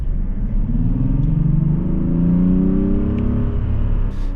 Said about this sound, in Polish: No czuć i słychać moc dużego diesla.